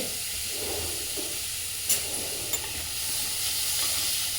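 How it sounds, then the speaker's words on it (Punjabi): Onion, ginger and green chilli dry-roast in a pan without oil, giving a steady soft hiss and sizzle with a couple of faint clinks and stirring scrapes. "ਆਪਾਂ ਪਿਆਜ਼ ਅਦਰਕ ਕਰੋ ਹਰੀ ਮਿਰਚ ਇਹ ਆਪਾਂ ਬਿਨਾਂ ਤੇਲ ਤੋਂ ਭੁੰਨਾਂਗੇ"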